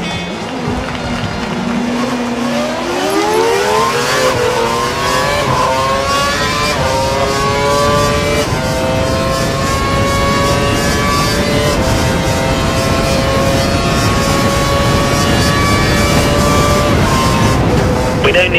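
F1 2012 race car engine in the video game at Monza, revving steadily and climbing through rising pitch sweeps, loud and continuous throughout with no talk.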